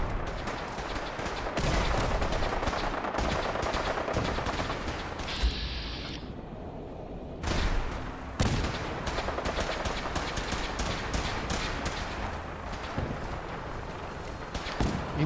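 Enemies in Fallout 4 fire steadily and keep shooting throughout, with continuous gunshots and bursts at moderate volume and a brief lull midway.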